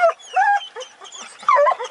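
Hunting hounds in an Italian wild boar scenting championship give high, yelping bays in short bursts, strung out and moderately distant, with no talk over them.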